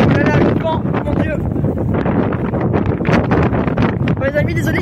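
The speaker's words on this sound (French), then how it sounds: "il y aura du vent dans la vidéo" Gusty outdoor wind buffets the microphone in loud, continuous rumbling blasts, with people talking underneath.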